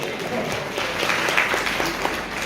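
Audience applause at a Hare Krishna devotional gathering, a steady dense wash of clapping hands that fills the room evenly and continuously throughout.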